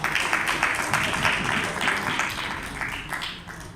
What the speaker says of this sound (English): You can have a big round of applause for Nishant